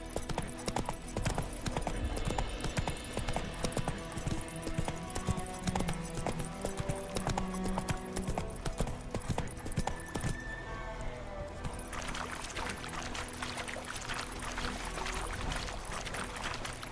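Roach, a horse in the video game The Witcher 3, gallops with steady, rapid hoofbeats over a dense bed of game music and ambience, the rhythm continuing throughout and thinning slightly near the end.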